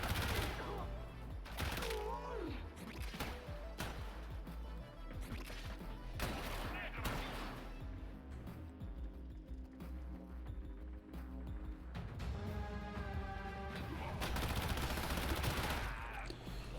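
Gunfire in the video game Warframe, mixed with game music and effects, with sharp bursts and crashes scattered across the stretch and a voice speaking over parts of it.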